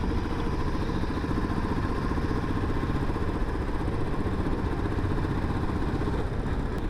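A motorcycle engine drones steadily while riding on a high mountain off-road track, a constant close rumble with no talking.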